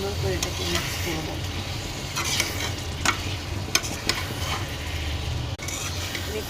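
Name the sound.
stirring beans and potato cubes in a frying pan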